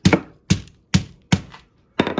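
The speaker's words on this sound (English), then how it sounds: "So just give it a good pound." Chicken cutlets pounded flat under wax paper on a kitchen board: five sharp, heavy thuds at a steady half-second pace, close and loud with silence between blows, the last one followed by a quick rattle.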